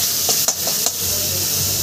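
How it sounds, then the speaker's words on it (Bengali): Spice paste with a splash of water frying in a pan for jackfruit paratha filling, a steady sizzle with a few quick scraping stirs, close up. "এবার আমি সুন্দর করে মশলাটা একটু জল দিয়ে কষিয়ে নেব"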